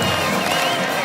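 A packed, sold-out stadium crowd roars at a college football game between Marshall and Old Dominion, a loud, dense wall of cheering and shouting that holds steady without a break.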